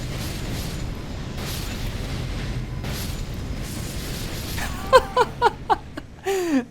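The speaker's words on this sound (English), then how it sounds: "In this case, it's exploding worms." Exploding worms in the Elden Ring DLC set off a quick run of sharp pops and bursts near the end, over a low cave-like rumble with faint background game sounds.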